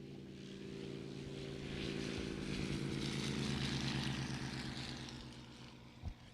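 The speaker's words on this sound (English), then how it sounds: "It's got that radial engine. I love the radial engine. I love the sound of the radial engines." Carbon Cub light aircraft with a radial engine taking off from a runway at the Sun 'n Fun air show: a steady propeller drone swells to a peak midway, then eases off, with a short thump near the end.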